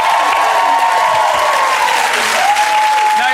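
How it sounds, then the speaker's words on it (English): Television studio audience giving loud, sustained applause with some crowd noise for arriving guests on a chat show; the clapping stays full and even throughout while faint voices sit beneath it. "let's give him a big round of applause"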